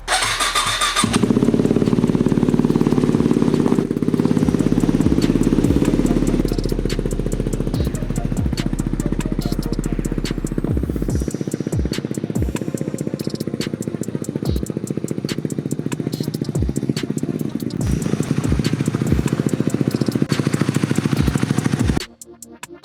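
A Yamaha WR250R dirt bike engine starts and settles into a steady, thumping idle on a driveway, close and loud throughout, with a rhythmic putter that cuts off near the end.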